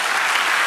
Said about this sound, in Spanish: Otro aplauso al Señor.